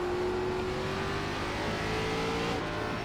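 An ARCA stock car engine in the iRacing simulator at Lanier asphalt track held at full throttle, a loud steady roar whose pitch climbs slowly and evenly across the whole stretch, with no voices over it.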